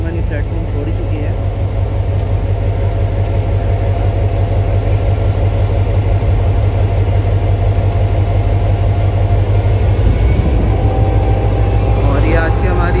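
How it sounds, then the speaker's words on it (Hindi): Mehran Express hauled by HGMU-30 locomotive 8204 pulling out of Landhi railway station toward Mirpur Khas, a loud, steady, close rumble of engine and rolling wagons with a thin high whine running throughout. "और ये आज की हमारी 149 अब मेहरान एक्सप्रेस HGMU 30R 8204 के साथ रवाना हो रही है लांडी से मीरपुर खास के लिए।"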